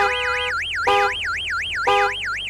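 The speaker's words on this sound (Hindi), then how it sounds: "कुत्ते की तरह अलार्म बजाता हुआ जा रहा है।" A car alarm in the video game Gas Station Simulator wails in a fast rising and falling tone, loud and continuous, with short bursts of a second beeping tone cutting in twice.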